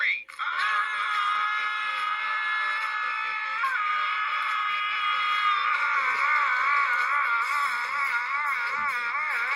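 Several voices scream together in a loud, sustained, wavering chorus that holds for nearly ten seconds after a brief start.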